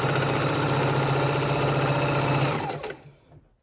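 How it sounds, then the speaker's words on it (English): A sewing machine chain-stitching quilt patches for a four-patch baby quilt runs in one steady, loud, close whirring burst, then winds down and stops. "And we're just going to chain stitch them"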